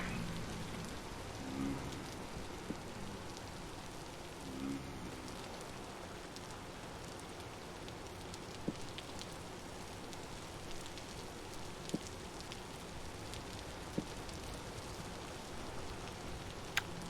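Steady rain hisses over a dim game landscape in Vintage Story, a continuous even wash of drops with occasional faint ticks and no voices.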